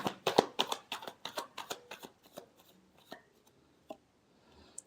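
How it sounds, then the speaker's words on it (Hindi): A deck of tarot cards is shuffled up close in a quick burst of riffling flutters that slows into a few scattered taps and slides, then fades to quiet. "last shuffle"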